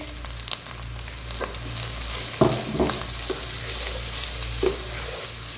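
Red chilli, turmeric, coriander and salt are stirred into chickpeas frying for Lahori cholay, a steady low sizzle broken by scraping spoon strokes against the pan, close and moderately quiet, with no talking.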